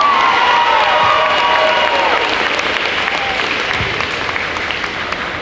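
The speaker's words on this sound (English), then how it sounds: "Let's have a round of applause for our first dance" A school audience at a poetry slam event applauds after a dance performance, loud sustained clapping with some cheering and youthful shouts mixed in, gradually easing toward the end.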